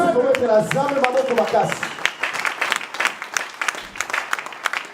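A church congregation claps and cheers, steady applause with scattered whoops filling the room after a voice opens the moment.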